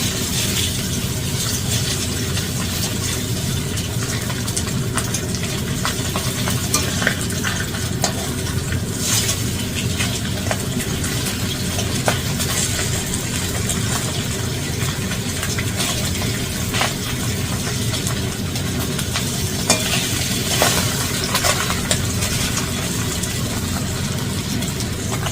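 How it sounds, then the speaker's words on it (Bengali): Shing fish fry in a pan of hot oil, a loud, steady sizzle running throughout, with occasional scrapes and knocks as the pieces are carefully turned over. "মাছগুলো আমি একটু উল্টে দেব, কিন্তু খুব সাবধানে"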